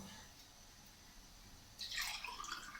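About one and a half glasses of water pour and splash into a cooking pot on a lit stove partway through, a short, bright rush after a few seconds of quiet background.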